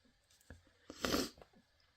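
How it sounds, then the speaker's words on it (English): A single sneeze with a runny nose, a short sharp burst of breath peaking around the middle, close and fairly quiet, flanked by a few small clicks and rustles. "I don't know if that sneeze just blew a blood vessel"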